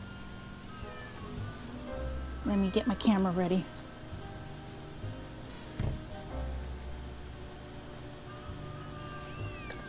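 A cat in the Nancy Drew: Secret of the Old Clock game gives one short, wavering meow partway through over quiet background ambience, while a voice speaks briefly.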